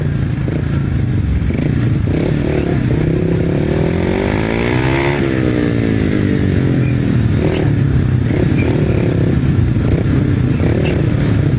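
Grasstrack racing motorcycles at an international meeting roar past in a loud, sustained pack, engines rising and falling with a clear pass-by sweep midway.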